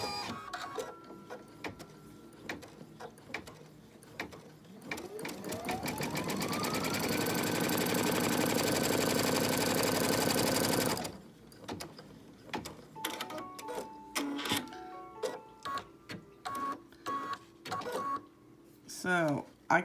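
An embroidery sewing machine stitches an in-the-hoop stocking, its motor rising into a fast, steady whirring run of needle strokes that stops suddenly, with a person talking before and after and intermittent clicks and mechanical noises.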